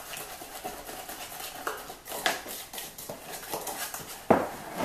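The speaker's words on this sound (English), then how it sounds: "stir this up real quick" A spork stirs cake mix in a bowl by the stove, giving irregular soft scrapes and light clinks against the sides, with one sharper knock near the end.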